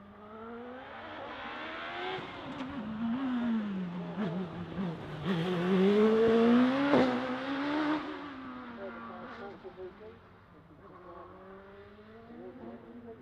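A turbocharged 1.2 litre Suzuki Hayabusa-engined race car climbs a hill climb course, its engine note rising and falling through gear changes, swelling loud as it passes, then fading into the distance under a commentator's voice.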